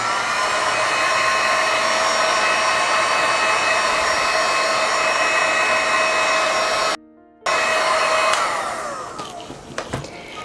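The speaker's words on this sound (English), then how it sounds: "Now, I'm going to use the heat gun just a smidgen here." A heat gun blows continuously up close with a steady whooshing hum. It cuts out briefly and starts again, then trails off.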